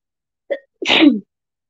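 A single sharp sneeze with a short intake of breath just before it, close and isolated in silence.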